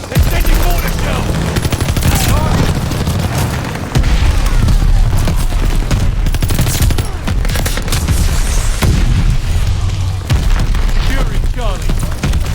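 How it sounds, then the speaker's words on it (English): Mortar shells explode on a Call of Duty Vanguard battlefield, heavy booms mixed with rapid gunfire bursts, loud and continuous, while game voices talk over the combat. "They're sending mortar shells."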